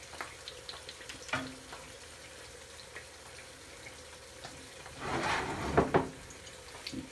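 Fish fries in oil in a pan with a soft steady sizzle, broken by louder bursts of crackling and scraping as the pieces are turned.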